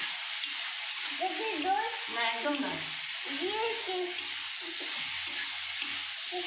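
Chilli beans paneer frying in a pan, giving a steady broadband sizzle throughout with stirring sounds, while a voice speaks briefly over it.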